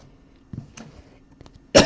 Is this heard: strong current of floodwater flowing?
no